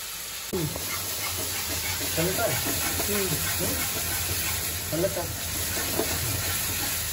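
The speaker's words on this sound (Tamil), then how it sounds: "வெங்காயத்தை நல்ல எண்ணெயில" Onions fry in gingelly (sesame) oil in a traditional mutton gravy preparation, making a steady, fairly close hiss and sizzle. A voice talks over the frying throughout.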